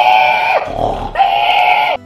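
A pig gives two loud, sustained squealing grunts close by, broken by a brief rough gap in the middle, then goes quiet.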